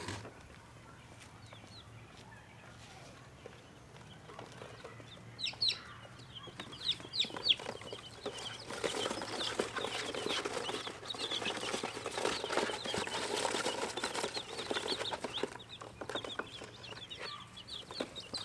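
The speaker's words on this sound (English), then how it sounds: "Welcome to your new home, chicks." Baby chicks cheep and peep in a brooder after being placed in their new home, with faint chirps at first that grow into busier, overlapping cheeping and light scuffling, and a voice briefly speaking.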